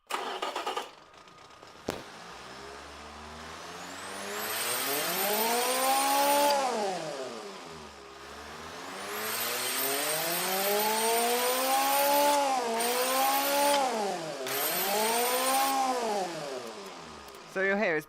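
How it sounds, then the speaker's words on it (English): A turbocharged car engine in the Automation car-building game revs repeatedly, each rev rising and falling in pitch with a shrill whine on top, several sweeping cycles after a brief quiet start. "I'll let you hear the turbocharged engine now."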